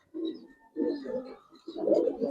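Caged Giribaz and coloured pigeons cooing, three throaty low coos in a row with faint higher chirps, near and clear without speech.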